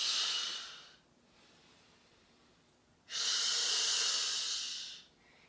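Two long, deep exhales through the nose during a yoga practice, each a close, breathy rush lasting a couple of seconds with a quiet pause between them.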